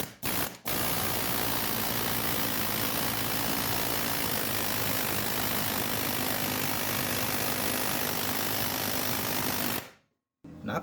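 An air impact tool driven by a partly charged air compressor works on the upper control arm ball joint of a two-door Chevrolet Tahoe, a steady loud mechanical rattle running nearly ten seconds before stopping abruptly.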